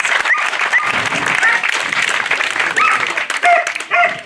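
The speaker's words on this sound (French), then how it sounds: "on peut applaudir hyper fort Elisabeth" Audience at the opening of a veterinary clinic applauding Elisabeth, brisk loud clapping with a few cheers and voices mixed in, while a dog barks briefly now and then.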